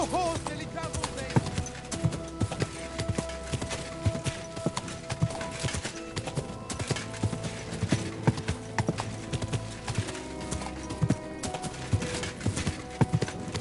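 Rapid, close hoofbeats of a galloping horse pound steadily throughout, with a brief whinny and voices mixed into the busy scene.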